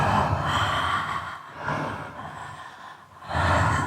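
Deep, connected breathing during a breathwork and trauma-release session, loud and close, with strong rhythmic inhales and exhales flowing into one another in broad breathy swells and no pauses between them.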